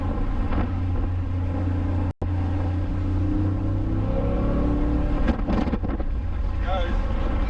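A Holden HT Monaro drives on the road, its engine a deep steady rumble beneath heavy wind buffeting, while people talk inside the car.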